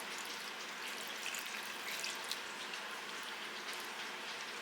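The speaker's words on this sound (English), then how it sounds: "I'm going to add a little bit of my pasta water in." Pasta water poured into marinara sauce in a pan, a steady close hissing splash that runs unbroken for several seconds at an even level, alone with no talking.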